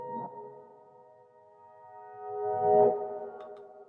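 Sustained, reverb-washed piano notes hum steadily, with a soft textured reverb swell and shimmer rising near the end before fading.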